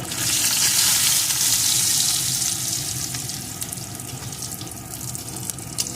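Bori lentil dumplings frying in oil in a pan after fish for a light rohu fish curry, a steady hissing sizzle that is strongest at first and settles slightly, with a few faint clinks.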